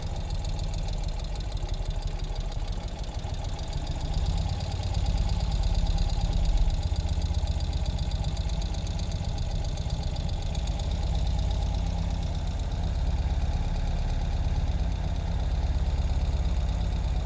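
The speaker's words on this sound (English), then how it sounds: "Let's hear that exhaust one more time." The engine of a 2020 Ural Gear Up Arctic Dawn motorcycle idles at a steady, close, even rumble, and the exhaust gives a rapid, regular low thrum that runs on with no break and no talk over it.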